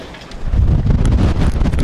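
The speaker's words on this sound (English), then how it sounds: "Very windy, as you can probably tell." Strong wind buffeting close to the microphone outdoors at a flypast, a low rumbling roar that swells and stays heavy, with no voices.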